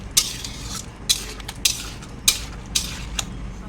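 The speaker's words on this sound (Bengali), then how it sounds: "এবার এটাকে ভালো করে কষিয়ে নেব" Soaked soybean chunks stir-fried with spice masala in a pan, a spatula scraping in regular strokes about every half second over a low steady frying hiss, close and without speech.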